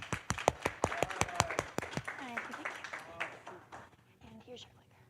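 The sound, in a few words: audience applause for the speaker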